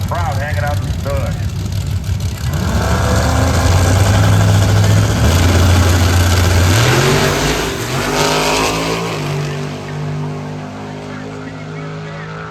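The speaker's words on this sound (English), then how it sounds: "Big single turbo on that LS motor." A drag car with a big single-turbo LS engine and a Holley hi-ram intake manifold revs loudly at a Snowbird Nationals drag race, the engine climbing and holding pitch in several stages before settling, with talk underneath.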